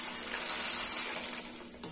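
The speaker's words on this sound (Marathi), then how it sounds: "त्याचप्रमाणे आपण रवा पापड देखील तळून घेणार आहोत." Rava papad frying in hot oil, a steady soft hiss and crackle of bubbling oil throughout, fairly close and without talk.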